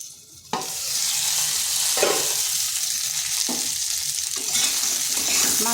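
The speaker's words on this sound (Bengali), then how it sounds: "তো এইরকম আলু পটলটা ভাজা ভাজা করে নিতে হবে।" Potatoes and pointed gourd fry in a pan, a continuous close sizzle broken by a few scraping stirs, with no talk.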